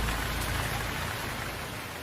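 Steady rain falling, a dense even hiss of drops with a low rumble underneath, continuous and fairly close, no talking.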